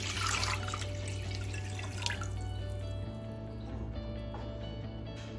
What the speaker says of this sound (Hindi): पतीली को मैंने चूल्हे पे रख दिया है, फ्लेम मैंने ऑन कर दिया है और उसमें मैं 1 लीटर पानी डाल रही हूँ।